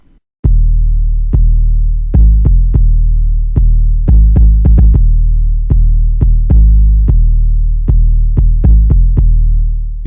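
Deep 808 sub bass from a Kontakt sub woofer engine with a tunnel-like echoey reverb, heard as a series of loud booming notes in an uneven rhythm, each decaying smoothly, with no voices.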